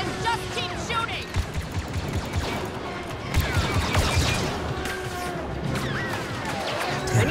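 Blaster fire crackles in the video game Star Wars: Battlefront 2, rapid overlapping shots and impacts in a dense battle mix under game noise and occasional voices.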